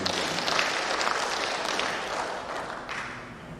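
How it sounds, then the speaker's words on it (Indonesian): Steady applause from a seated crowd in a government hall, a dense wash of clapping that slowly fades toward the end, with no voices over it. "Kita kasih tepuk tangan itu."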